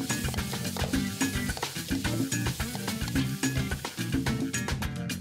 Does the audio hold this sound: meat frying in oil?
yes